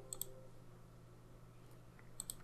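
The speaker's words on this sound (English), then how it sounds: "We click OK and save that, and it'll post those reversals for us." A computer mouse clicks OK in Sage accounting software, giving two faint pairs of crisp clicks, one at the start and one near the end, over a quiet background hum.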